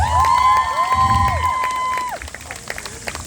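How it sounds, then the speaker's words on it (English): A crowd at an outdoor market acrobatic show applauds and cheers briefly, with whistles and high sweeping tones mixed in, tapering off after a couple of seconds. "can we give the fellas a round of applause?"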